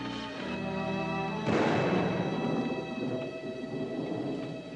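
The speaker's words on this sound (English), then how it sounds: "You know what that is? That's thunder." A deep rumble of thunder rolls in and swells suddenly into a loud, crackling boom, then slowly fades, with rain hissing underneath.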